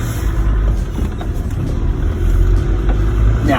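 A Land Rover Discovery TD5 diesel engine labours off-road through deep ruts, a loud, close, continuous rumble with a slight rise in revs near the end.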